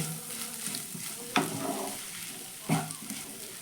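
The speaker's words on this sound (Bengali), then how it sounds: "এবার সব কিছু ভালো করে একটু মিশিয়ে নেব" A spatula mixes a dal and potato filling seasoned with salt and sugar in a pan, giving a low, soft sizzle broken by two sharper scraping strokes, close and quiet with no talking.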